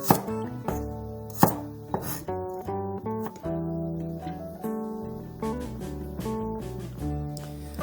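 A knife chops Cheongyang chili peppers and whole garlic on a cutting board in a run of sharp, close thuds at an uneven pace, with a few harder strikes near the start.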